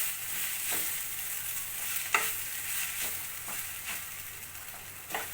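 Chicken pieces sizzle steadily in a hot pan while a utensil stirs them, with soft periodic scraping strokes about once a second over the constant close frying hiss.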